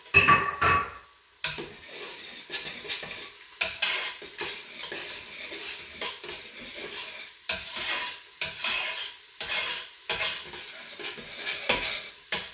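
Garlic cloves, roughly eight to ten, sizzle and fry in a pan for savoury lamb shanks, with repeated stirring scrapes and clinks of a utensil against the pan over a steady close sizzle, no talking.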